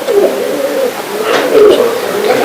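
A pigeon held in a person's hand gives soft, low cooing, close and fairly loud, in a couple of rolling phrases with a faint voice in the background.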